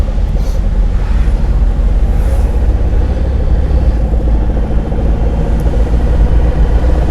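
A learner driver's car engine hums and rumbles steadily and loudly throughout, holding a continuous low drone as the accelerator is pressed during a driving lesson.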